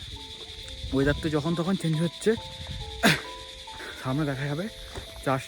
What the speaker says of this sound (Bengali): আর এখানে পুরো চারদিক থেকে পুরো ঝিঝি পোকার ডাক পুরো বোঝা যাচ্ছে।